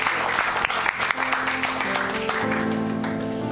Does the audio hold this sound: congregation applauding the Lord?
yes